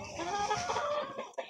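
Domestic chickens clucking close by in a backyard flock, a busy run of overlapping clucks and chatter with a couple of sharper calls near the end.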